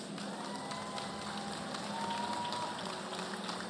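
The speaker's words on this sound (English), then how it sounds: "Please give yourselves a huge round of applause." Steady crowd noise of clapping and cheering at an outdoor festival entertainment stage, a dense continuous wash at moderate distance with no clear individual voices.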